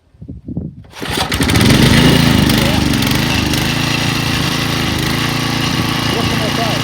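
A Briggs and Stratton lawn mower engine, RT524, catches after a few pull-start sputters and then runs steadily at a loud, close, even drone.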